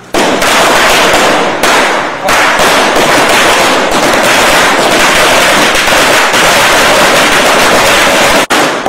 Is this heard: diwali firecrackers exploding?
yes